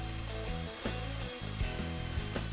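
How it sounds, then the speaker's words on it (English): A power drill turns a 3/4 inch spade bit while boring holes, producing a steady motor whine with small shifts in pitch as the load changes. "We're using the provided 3/4 inch spade drill bit to drill both these holes."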